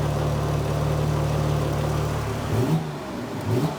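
A Porsche 911 Turbo engine with a coolant leak runs steadily with a low, even hum while warming up, then revs up briefly near the end before settling again.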